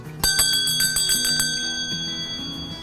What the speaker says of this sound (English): a handbell from the teacher,